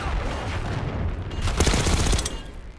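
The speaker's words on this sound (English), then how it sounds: "Exchanging fire." Video game gunfire in Call of Duty: Black Ops 6, an automatic burst of rapid, sharp shots rattling off in quick succession midway through, over a low rumbling battlefield background.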